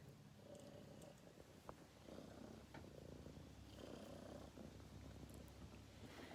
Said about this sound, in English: There's a cat right here trying to get me to pet it.